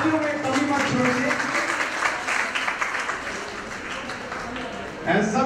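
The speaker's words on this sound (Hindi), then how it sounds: "जोरदार तालियां हो जाए" Applause from the crowd at a film festival award show in Rajasthan, a dense wash of clapping across several seconds with voices talking over it and a louder burst near the end.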